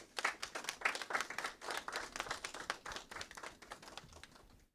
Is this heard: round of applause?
yes